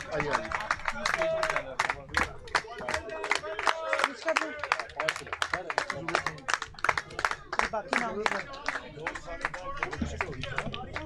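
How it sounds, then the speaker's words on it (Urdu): A crowd at a political party convention on Pakistan Day stands and claps, with many overlapping hand claps forming a steady, dense patter that runs throughout, nearby and fairly loud. "میں چاہوں گی آپ سب کھڑے ہو کے ان کے لیے تالیاں بجائیے"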